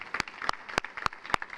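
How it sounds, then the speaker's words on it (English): A handful of scattered, separate claps ring out at a school recognition dinner, about five sharp hand claps spaced unevenly across a brief moment in a room. "Can we give them a round of applause?"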